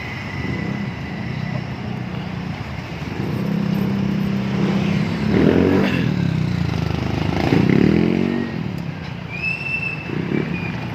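A motorcycle engine runs close by with a rough, rising and falling drone, joined by clattering and scraping noises and some faint background voices.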